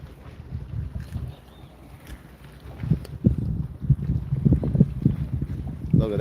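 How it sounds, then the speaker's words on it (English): A big ship sails out, its low engine rumble and wind noise building toward the end, with faint talk in the background. "Big ship sailing out."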